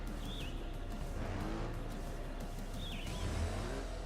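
A motorbike engine revs continuously in the PC video game Trials Fusion, a loud, steady droning roar with a rising whine as the throttle is held open.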